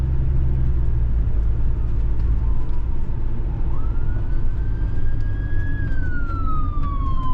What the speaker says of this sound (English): Couple ambulances.